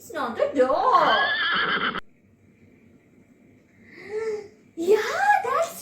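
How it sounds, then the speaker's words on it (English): A horse whinnies loudly with a wavering, high pitch for about two seconds. After a quiet gap, softer whinny-like calls follow, then another loud, excited burst of high vocal sound. "Horse makes the sound neigh"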